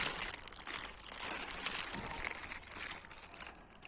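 Packaging from a Range Rover Evoque running board kit is unwrapped, giving soft, close crinkling and rustling of wrapping in irregular bursts that continue throughout.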